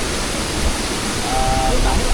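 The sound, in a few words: waterfall in Kayan Mentarang karst forest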